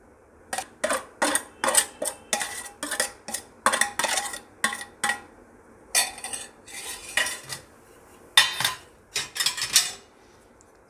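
Sabudana and potato mixed in a bowl, a quick series of clinking scrapes of a utensil against the dish, coming in rhythmic bursts with short pauses, close and clear with no talk.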